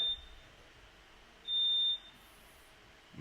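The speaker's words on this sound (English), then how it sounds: "smoke alarm went off." A smoke alarm gives a high electronic beep briefly near the start, then a longer steady beep of about half a second follows, over quiet room noise.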